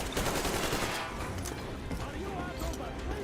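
Dense, continuous gunfire from Metro Exodus gameplay, a steady roar of shots and crackling impacts filling the whole stretch, loud and busy with battle noise throughout.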